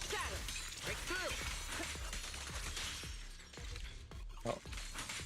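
A glassy shattering burst rings out during combat in Zenless Zone Zero, layered over dense, continuous game effects and music with sharp crackling hits scattered throughout.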